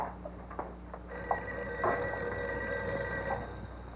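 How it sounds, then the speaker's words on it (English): An old telephone rings in an office with a steady electronic trill lasting a few seconds, fairly faint amid room noise and a few soft knocks. "I think your phone is ringing"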